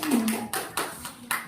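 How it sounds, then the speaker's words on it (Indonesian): Clapping in a classroom sounds as about five separate slow claps spaced roughly a quarter second apart, close and moderately loud, with a voice at the start. "Beri tepuk tangan untuk kita semua"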